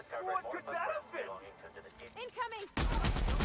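Gunfire from The Outer Worlds video game, Murder on Eridanos add-on, bursts in loudly and dense near the end after a stretch of talking that runs through most of the clip.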